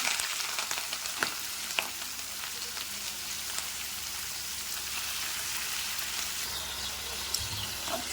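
Chicken pieces sizzle and crackle in hot sesame oil in a pan while making chicken soup, a steady close-up frying hiss with occasional sharper pops.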